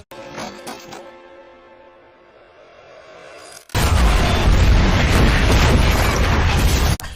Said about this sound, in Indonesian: Hal itu yang membuat bom aktif dan langsung meledak.